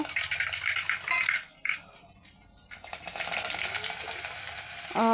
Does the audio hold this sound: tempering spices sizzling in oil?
yes